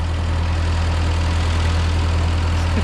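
A 1950 Ford 8N tractor engine idles just after starting, a steady, loud, low chugging rumble that holds unchanged and close for a few seconds with no voices.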